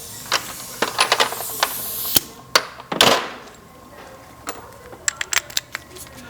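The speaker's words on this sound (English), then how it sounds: "Now I'm going to take out these strut bolts right here." A wrench works on the front strut bolts of a car with a creaking front end, producing sharp metallic clicks and taps in quick clusters plus a brief hissing burst, close and fairly quiet.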